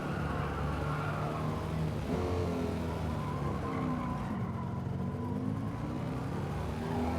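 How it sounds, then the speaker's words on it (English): Game car in Gran Turismo 7 during a licence test, engine droning steadily with gear-shift pitch changes while tires squeal and skid through a corner, continuous and close with no talking. "Getting the car to accelerate out of there is the tricky bit."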